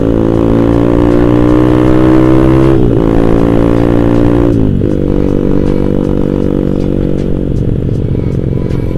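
A loud motorcycle with a Proliner exhaust rumbles steadily, dipping in pitch twice as the rider shifts or eases off, with a deep throaty tone throughout.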